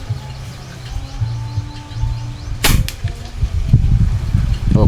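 A China-made airgun fires a pellet in a single sharp crack amid outdoor birdsong and light background noise, followed by low murmuring.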